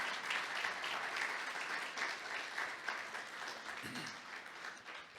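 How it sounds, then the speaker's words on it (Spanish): Church congregation applauding the Lord during a sermon: a continuous wash of many hands clapping, moderately distant and even, with a faint voice briefly surfacing near the end. "Por eso, déle ese aplauso al Señor"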